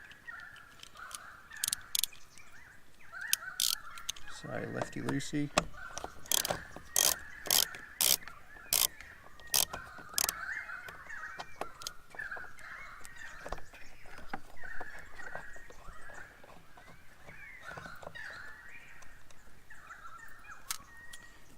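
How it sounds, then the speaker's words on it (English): Birds caw and call repeatedly outdoors, with some clicking mechanical ratcheting of a Torx bit on bolts during car work, and a brief voice. "I hope you can hear me over the birds."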